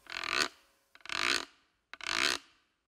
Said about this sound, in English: A weirdo does have a scratchy, scrapey sound.